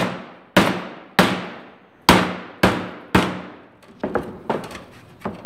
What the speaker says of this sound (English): I'm going to take a piece of wood and a hammer.